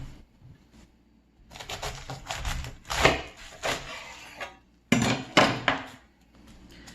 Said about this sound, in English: Then we have the cabbage and we need to cut it into little strips.